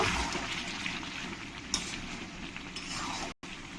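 Water goes into a pan of duck meat curry that has been browned until the oil separates, giving a soft, steady rushing hiss with a couple of brief splashy bursts and a sudden cut near the end.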